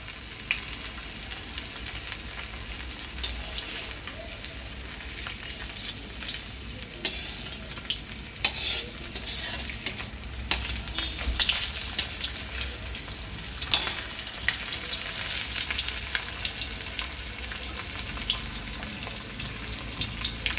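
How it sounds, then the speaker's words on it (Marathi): Surmai fish pieces frying in a pan, with a loud, dense crackling sizzle throughout and occasional scraping stirs. "हे आपण तव्यामध्ये दोन आपण तळणार आहोत।"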